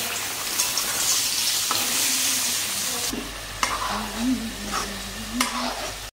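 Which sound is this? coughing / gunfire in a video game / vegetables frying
vegetables frying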